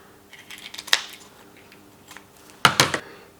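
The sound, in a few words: scissors cutting through sheep trachea cartilage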